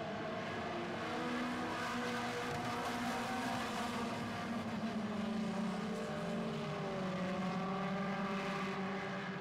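Four-cylinder race cars on an oval track during a heat race, engines droning and rising in pitch as a pack passes at mid distance, a continuous overlapping whine with no talk.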